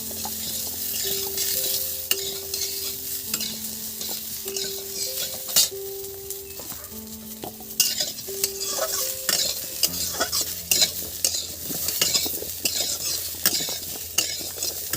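Carrots for shukto fry in a pan with constant stirring, a spoon scraping and clinking against the metal over a steady sizzle. A melodic tune plays softly underneath throughout, with no talk.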